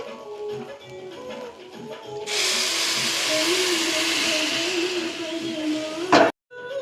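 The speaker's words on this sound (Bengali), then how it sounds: "এবার কিছুটা পরিমাণ জল দিয়ে দেবো" Water poured into a pan of frying Gobindobhog rice and dal sets off a sudden loud, steady hiss of steam and sizzle that lasts several seconds and ends with a metallic clank.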